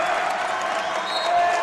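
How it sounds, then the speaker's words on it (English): Crowd at a varsity boys basketball district final cheering and applauding, a steady wash of claps and voices that rises slightly toward the end; dense and continuous, heard from within the gym. "this crowd is getting into it"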